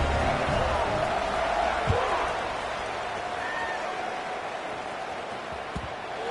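Football stadium crowd before an Air Force game kickoff, a steady broad roar of many voices holding at one level throughout, with faint announcer-style talk in the background and a couple of brief thumps.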